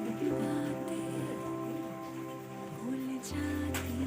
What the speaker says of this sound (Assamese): আমাৰ ফালে ইমানেই বৰষুণ দিছে